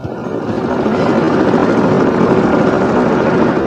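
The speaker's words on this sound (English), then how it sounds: "The helicopter took off and climbed slowly into the sky." A helicopter takes off, with a steady, loud roar of rotor and engine heard alone throughout.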